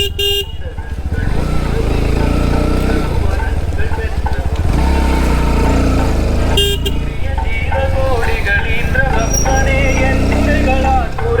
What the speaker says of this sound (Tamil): நம்ம வண்டியை ஸ்டார்ட் பண்ணி ஓட்டுவோங்க